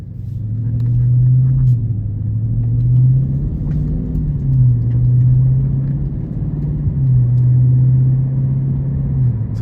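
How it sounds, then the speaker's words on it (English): A 2022 Dodge Charger SRT Scat Pack Widebody cruises on the road, its engine giving a steady, loud low rumble that swells and eases in long waves as it drives. "take this Charger Scat Pack out on the road for a quick test drive"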